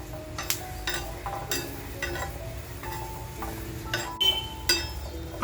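Green chillies and garlic roasting on a hot pan, with a soft sizzle under repeated clinks and scrapes of a spatula against the pan, close by, no talking.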